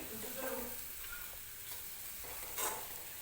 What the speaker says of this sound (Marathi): अगदी थोडीशी हळद टाकणार आहे मी आणि परत एकदा मिक्स करून घेणार आहे.